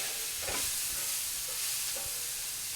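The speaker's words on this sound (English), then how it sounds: "saute that for about a minute until it gets fragrant" Onion and garlic sauté in a pot with a steady, quiet sizzle and a few soft stirring scrapes, and nobody speaks.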